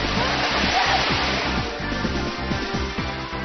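Steady rushing roar of a waterfall on a climbing trail, broad and continuous, close and loud, with faint rhythmic thumps underneath and no clear talking.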